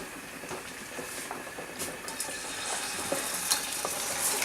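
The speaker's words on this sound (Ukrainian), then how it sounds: "На розігріту пательню кидаємо їх і починаємо жарити" Beef brains frying in a hot pan, a close, continuous sizzle with small crackles and pops and occasional stirring scrapes, with no one talking.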